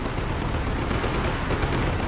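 Rapid gunfire in the open-world video game Just Cause 3 crackles in a dense, continuous burst of overlapping shots and blasts, loud and close, with no talk.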